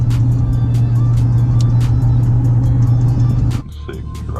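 A Chevrolet Silverado pickup truck driving, with a steady low engine drone and road rumble close by, ending in a sudden drop as the engine note changes.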